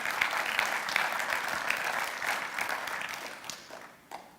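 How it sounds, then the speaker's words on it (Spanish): A church congregation bursts into applause during a sermon, a dense, even clapping that holds steady and then tapers off toward the end, with a few last claps. "Denle un aplauso a Él."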